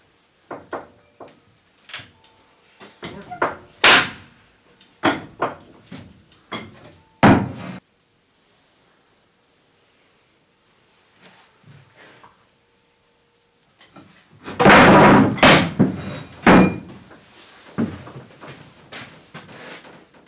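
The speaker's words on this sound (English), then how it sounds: "I just used my 3-ton floor jack and a board and tried to level it out" A 3-ton floor jack and board press up the bent, flattened roof of a cargo trailer, giving a series of loud, close knocks, creaks and metal pops, with a quiet pause before a denser burst of straining bangs.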